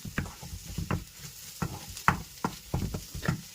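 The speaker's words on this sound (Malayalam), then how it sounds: "ഇനി നമുക്ക് സ്കിഡ് ഒന്ന് അതിലേക്കൊന്ന് ഇട്ട് കൊടുക്കാം." Sliced squid sizzles in a hot pan for a masala, with a spatula scraping and stirring in short, irregular strokes over a soft frying hiss.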